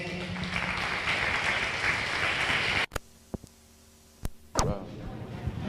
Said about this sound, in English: I give another round of applause for Dr. Claude Anderson.